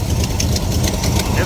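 A 1968 Ford Mustang restomod runs at idle with a slight exhaust leak, a close, loud, steady engine throb with quick rhythmic pulses and ticking through the brief stretch.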